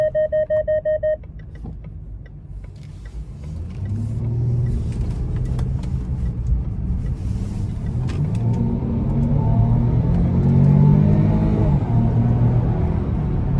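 A 2017 Range Rover HSE Supercharged V6 accelerates hard from inside the cabin, its engine rising in a steady, building roar after a few short chimes at the start, with no talking.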